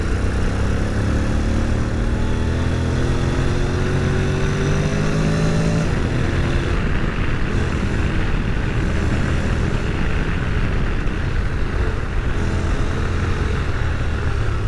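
Honda NC 750X DCT motorcycle engine droning through curves, with rising and falling gear tones shifting partway through, wind rush continuous underneath and no talking.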